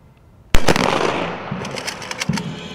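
Ceremonial salute volleys fired at a Defender of the Fatherland Day event with a garrison parade in Brest: one loud sharp report, then a long crackling tail with several fainter pops, no talking.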